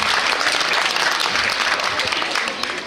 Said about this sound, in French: Applaudissements pour Tiffaine